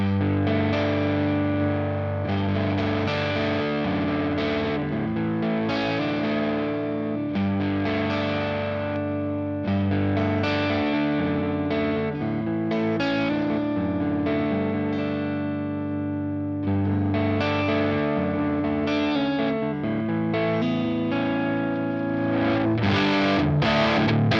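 Heavily distorted electric guitar through a Helix amp modeler plays sustained, chunky chords with brief pauses between phrases, loud and up close with no voices.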